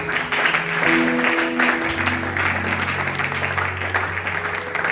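A church congregation bursts into steady, loud applause to acclaim Jesus, with continuous clapping filling the whole stretch and organ-like sustained tones underneath.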